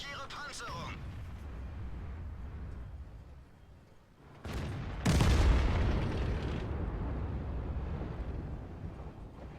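Tank cannon fire from a Panzer 58 Mutz in World of Tanks: a short burst, then a heavy close boom followed by a rumbling tail, with a voice talking over the game sound.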